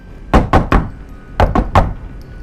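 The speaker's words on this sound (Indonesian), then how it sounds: "Ruangan pintu itu tergedor keras." A door is banged hard in two sets of three heavy, close thuds, quick and evenly spaced, with a short gap between the sets and no voices.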